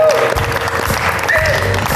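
A studio audience applauds loudly for the guests Tilek and his wife, a steady burst of close clapping with talk running over it.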